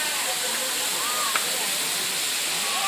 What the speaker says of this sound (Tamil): ஃபால்ஸ் மேலேருந்து தண்ணியை ஊற்றுது.